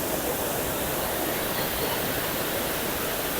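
A Himalayan waterfall in Kashmir roars steadily, a broad, even wash of rushing water with no pauses and no voices over it.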